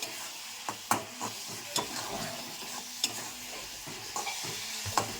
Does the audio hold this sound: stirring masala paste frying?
yes